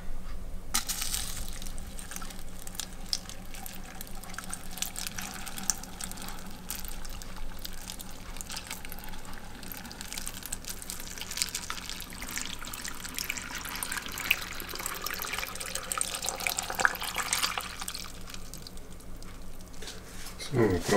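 Water pours and trickles into glass jars while vegetables are prepared for fermentation, a continuous splashing stream with scattered clinks over a low background.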